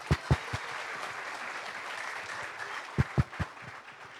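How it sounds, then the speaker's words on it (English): Audience at a charity concert event claps after a speaker's introduction, a soft, distant spread of applause punctuated by a few loud nearby hand claps in two short bursts. "Let's please give him a round of applause."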